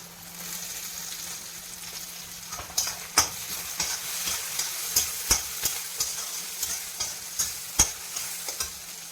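Tomatoes hit hot oil in a pan for a dry fish curry, giving a steady close sizzle with repeated sharp scraping taps of a stirring spoon against the pan.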